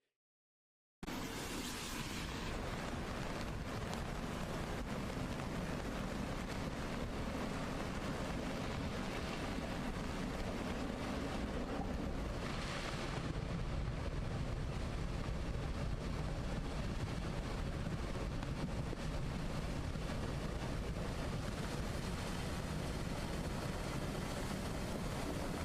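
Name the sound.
debris flow flash flood of water, mud and boulders at Illgraben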